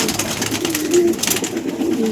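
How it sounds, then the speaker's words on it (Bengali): Pigeons kept in a loft, Andhra and star breeds among them, coo softly and steadily amid a busy background with bursts of broadband noise. "এই হচ্ছে পায়রা"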